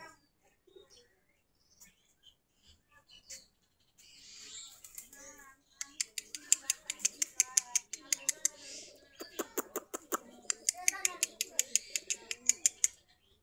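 A pigeon on a guava tree branch coos in soft repeated phrases, joined by rapid fluttering wing flaps and a few scattered chirps, moderately close with no talking.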